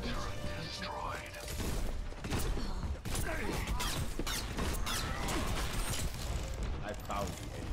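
Rapid gunfire and weapon bursts in the shooter game Overwatch during a competitive match, dense volleys with mechanical clacks and crashing impacts, loud and sustained with brief gaps.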